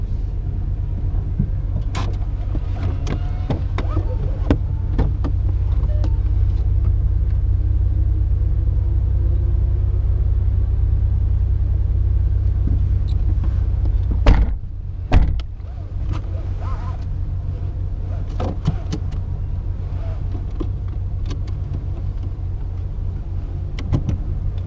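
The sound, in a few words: car engine driving at autocross solo school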